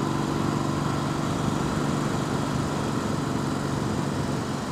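A motorcycle being ridden gives a steady, unbroken engine drone that stays loud and even throughout, with no voices over it.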